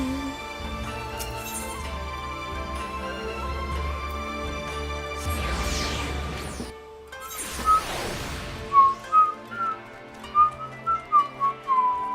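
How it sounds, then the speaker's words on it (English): A woman whistles a short, wobbly melody in a string of uneven bursts, alone over a steady background of game music with whooshing effects. "I whistle really, really badly, I apologize."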